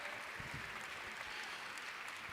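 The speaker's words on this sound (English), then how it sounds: "Keep clapping until she hits the stage." A conference audience claps in a dense, steady wash of applause, heard faintly and at a distance for a couple of seconds.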